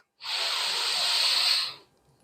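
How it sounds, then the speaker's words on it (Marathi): A single deep inhale during a guided sleep relaxation, heard as a long, smooth breathy hiss close to the microphone that lasts about a second and a half, then fades. There is no talk over it. "एक मोठा श्वास"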